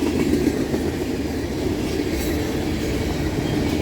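A Norfolk Southern or CSX freight train made up of tank cars rolls past at steady, close range, a continuous rumble of wheels on rail with faint clickety-clack and light squeal throughout.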